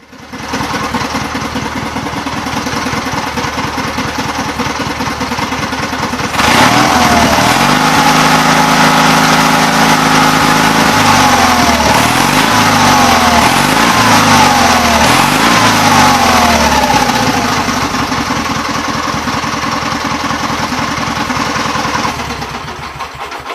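A Gravely 8199kt tractor engine with a newly replaced governor runs steadily at a loud idle, then revs up with a few rising and falling throttle swells before settling back, continuous and close with no talk.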